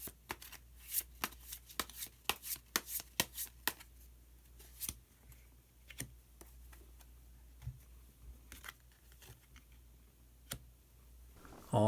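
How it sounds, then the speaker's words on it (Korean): Tarot cards being shuffled and drawn, with quiet close crisp riffling snaps and flicks arriving in irregular bursts and then thinning out, with no talking. "그러면은 히든 카드를 한 장 더 뽑아보도록 하겠습니다."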